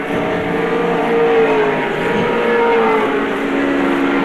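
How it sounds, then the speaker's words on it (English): Touring race cars compete at the 1984 ATCC round at Surfers Paradise, giving a loud, continuous engine roar that holds steady throughout with faint rising and falling tones from passing cars. "There's the race leader, Dick Johnson, down the straight"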